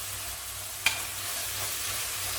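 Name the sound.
sautéing peas and vegetables for vegetable biryani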